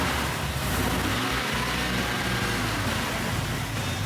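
A 1970 Chevelle SS engine runs steadily, a loud, close and continuous mechanical rumble with no talking.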